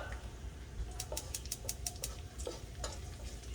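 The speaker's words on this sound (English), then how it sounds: "Preheat your skillet, some vegetable cooking oil, and then we add in the shallot" Shallot sizzles softly in vegetable oil in a preheated skillet, a faint crackle broken by a quick series of sharp clicks and scraping stirs.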